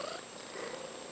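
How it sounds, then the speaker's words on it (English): A cat purrs close and steady, a continuous soft rumbling drone over quiet room background, with no one speaking. "She's purring."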